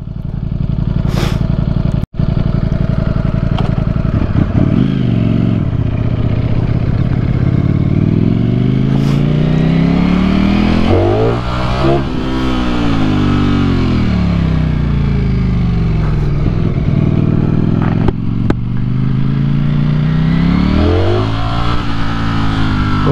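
A Ducati Streetfighter V4S motorcycle, rated at 153 kW, is ridden hard, its engine loud and close as it revs up and down through repeated rising and falling sweeps, with brief clicks and no speech.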